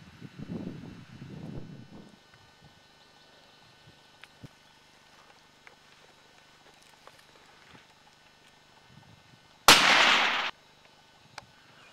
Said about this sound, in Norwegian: Et skudd i nakken, 245 meter.